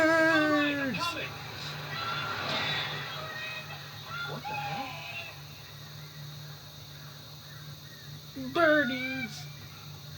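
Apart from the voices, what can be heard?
screeching birds attacking in the video game Alan Wake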